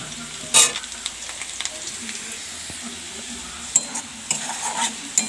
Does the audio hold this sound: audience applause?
no